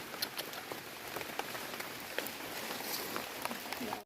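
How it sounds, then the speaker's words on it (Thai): Rain patters steadily onto surfaces nearby, a dense hiss dotted with sharper drops, fairly soft and unbroken across the few seconds. "โอ้ฝนนะ"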